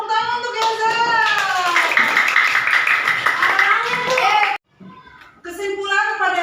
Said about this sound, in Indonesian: tepuk tangan untuk Eza